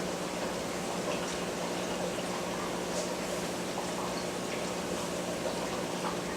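A Python water vac siphons aquarium water through its tube, pouring as a steady rushing, bubbling flow that runs unbroken and fairly close throughout.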